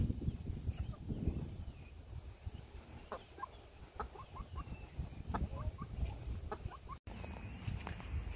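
Chickens clucking softly in short scattered calls while pecking, with faint scratching and rustling in dirt beneath a low background hum, on a very hot day in Texas.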